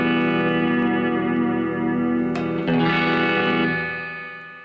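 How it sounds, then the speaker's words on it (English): A Peavey Bandit 65 guitar amp with its spring reverb turned all the way up sustains a loud ringing chord, then a sharp crash and splashy boing from the springs rings out and slowly fades. "There's a really cool spring reverb."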